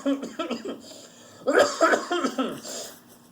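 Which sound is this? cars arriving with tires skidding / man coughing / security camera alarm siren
man coughing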